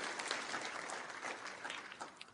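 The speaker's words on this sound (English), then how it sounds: "Give yourselves a round of applause" A crowd applauds briefly, soft and somewhat distant, a steady patter of many hands clapping.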